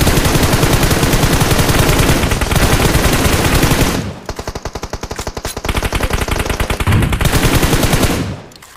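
Bursts of machine gun fire in a PUBG squad match on the Erangel map, loud and near. Dense continuous firing gives way to a rapid rhythmic burst of separate shots that stops near the end.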